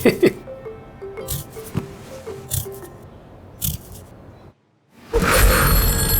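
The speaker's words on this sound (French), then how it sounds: "Le téléphone!" A telephone bell rings in short bursts, fairly close and loud, with a pause before a final louder ring.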